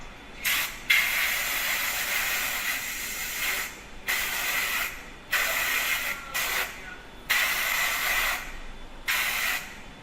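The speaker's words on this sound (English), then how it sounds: "Then we will use compressed air to dry the part." Compressed air blasts dry a freshly cleaned DLP resin-printed part, several loud close hissing bursts of a second or two each, separated by short pauses.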